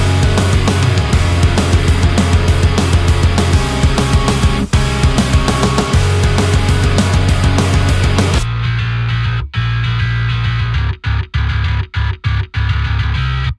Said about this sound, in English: Let's talk about getting a modern pop punk bass sound like this.